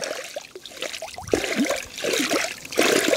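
Air bubbles rise and pop in a clear stream in an unpolluted forest, close-up gurgling blips and trickling water in an irregular, bubbly rhythm.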